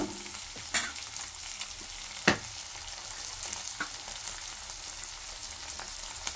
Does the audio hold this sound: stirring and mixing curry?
yes